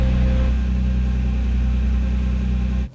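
A Nissan GT-R idles steadily after a cold start following three months parked, a close, even low engine drone with a constant hum that cuts off abruptly near the end.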